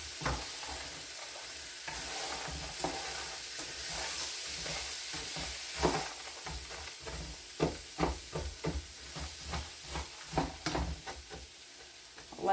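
Food fries in grease in a pan and is moved around with a utensil: a steady close sizzle runs throughout, broken by repeated scraping and clattering stirs that grow busier toward the end.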